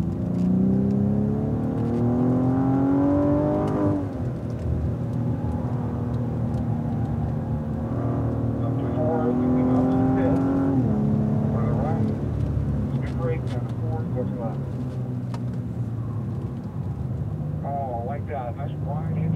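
A Cadillac ATS-V engine revs and pulls hard through the gears on a race track, the pitch climbing and dropping at each shift, with an instructor talking over the engine noise.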